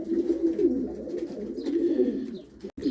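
Pigeons kept for flying, among them an Arab-breed male, coo in low rolling bursts that swell and fade, close and steady, ending with a brief sharp knock and no voices.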